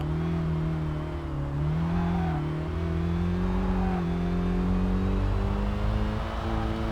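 A Mazda 3 engine drones and climbs steadily in the racing game Kaido Racer 2, a loud sustained hum rising in pitch as the car accelerates on a hill climb, with no talking over it.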